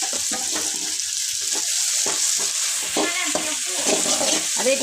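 Ginger and coriander stirred in a frying pan for egg biryani: loud continuous sizzling close up, with repeated scraping stir strokes in an uneven rhythm and no speech.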